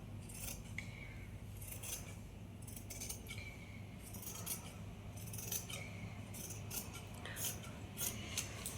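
Scissors snipping through blouse fabric for a princess-cut blouse in sizes 32 to 36, a quiet run of repeated crisp cuts close by with no talking.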